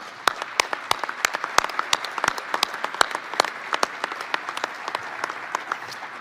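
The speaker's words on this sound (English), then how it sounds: "give a round of applause to all of them" Applause for a university search committee at an athletics director announcement: a moderate crowd claps with distinct individual claps audible throughout, steady and fairly close.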